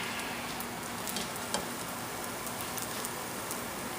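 Sweet rice cakes, vitumbuwa, frying in hot oil, giving a constant dense crackling sizzle like light rain, close and even, with one faint tap and no voices.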